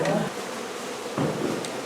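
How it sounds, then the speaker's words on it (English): Agitated honey bees buzz densely around an opened hive during a removal, a close, continuous droning swarm with a couple of soft knocks from handling the frames. "The bees are getting a little bit angry"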